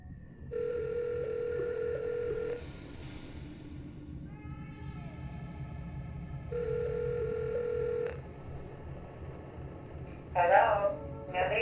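A telephone rings as an audiobook sound effect, sounding in two long electronic bursts separated by a pause. Each ring is moderate in volume and sits over a low background hum, followed by a short jumble of sounds near the end.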